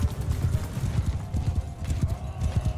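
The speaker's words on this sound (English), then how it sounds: "Surrounded by horses as well." Several horses gallop in a Mount & Blade II: Bannerlord cavalry battle, a dense, rapid drumming of hooves close by with a brief whinny, speech faintly underneath.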